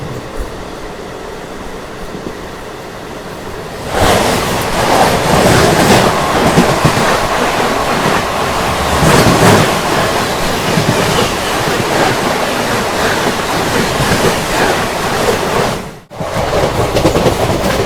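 Varanasi–Jodhpur Marudhar Superfast Express passing close by, a loud sustained rumble and rattle of wagons starting abruptly after a quiet lead-in, with a brief dip near the end before the roar resumes.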